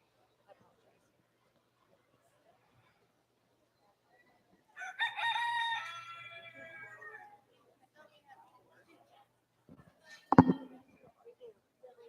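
A rooster at a junior livestock poultry show gives one loud, close cock-a-doodle-doo lasting a couple of seconds, followed later by a sharp squawk. Otherwise the indoor show space is mostly quiet, with only faint scattered sounds.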